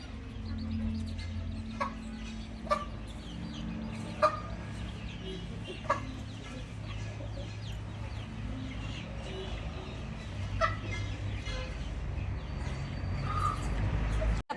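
A hen clucks softly and repeatedly at a close distance, with faint peeping of her chicks in a brooding room and quiet farmyard background.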